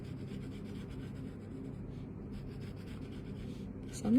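Pencil shading on a paper drawing tile, a steady soft scratchy rubbing that runs without a break for several seconds. It is close and quiet, with a brief louder bump at the end.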